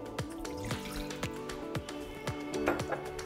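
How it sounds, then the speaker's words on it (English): Water poured into a pan on a Lamona induction hob to start caramel, heard as a run of sharp, evenly spaced drips and splashes over a steady background tone. "So into a pan, we're going to go in with some water"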